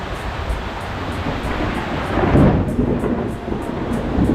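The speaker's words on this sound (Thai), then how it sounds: "ฟ้าร้องหนักมาก" Heavy thunder rolls through a steady roar of rain, a broad, loud rumble that swells midway and holds on without any talking.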